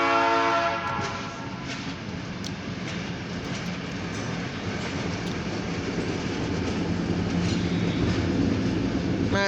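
An OC&T light power locomotive move heads back toward the Titusville, Pennsylvania freight yard, its diesel rumble passing close and loud with a horn blast at the start and steady rail noise throughout, no talk.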